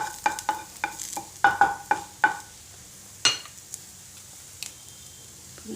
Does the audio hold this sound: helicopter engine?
no